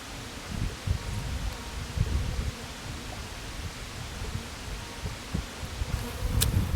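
Bees buzz faintly around a beehive in a flower-filled desert field in Joshua Tree National Park, a thin, steady drone under outdoor wind and rustle, with no talking.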